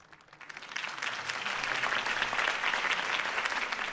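Applause from a crowd in the video game Batman: The Telltale Series swells quickly after a campaign speech and holds steady, a dense wash of clapping with no voices.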